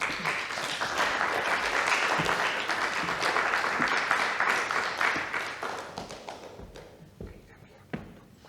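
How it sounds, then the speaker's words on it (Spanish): An audience applauds at a conference forum, a thick burst of clapping that holds strong for several seconds, then thins out into scattered claps and a few thumps before fading. "Un aplauso."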